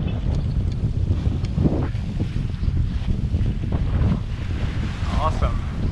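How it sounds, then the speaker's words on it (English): A sailboat under sail in Pillsbury Sound between St. Thomas and St. John in the US Virgin Islands, with steady wind rushing over the microphone and water washing against the hull throughout. "we're sailing now in Pillsbury Sound."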